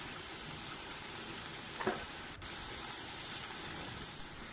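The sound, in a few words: frying spices in a pan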